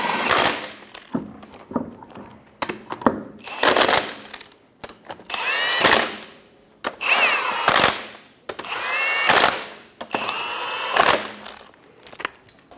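Front wheel lug nuts on a 2003-2007 Honda Accord being snugged down with a power drill, about a dozen loud buzzing bursts of rising whine separated by short pauses, close and alone with no talk.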